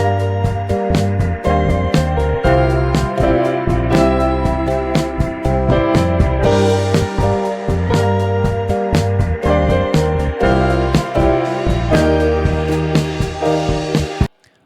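A full synth arrangement with Rainforest and Elevator Keys lead lines drenched in Raum reverb, dense layered chords and steady rhythmic hits playing continuously and loud, then stopping abruptly at the end.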